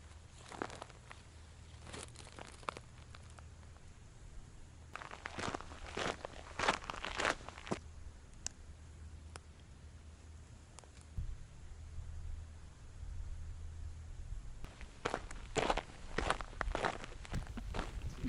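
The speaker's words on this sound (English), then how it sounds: "My footsteps were the only shoes to be heard." Footsteps crunch along a dry, quiet trail on Santa Cruz Island, California, coming in faint clusters of steps with pauses between them against a hushed background.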